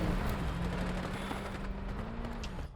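Gunfire from the Delta Force shooter game, a steady barrage of shots over a low engine drone with one sharp burst near the end.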